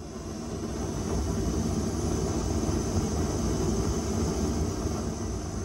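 Gas hisses steadily through a solenoid valve that is switched off and should be closed, part of a repulsor rig for an Iron Man exosuit build; a constant, fairly loud broadband rush with no breaks.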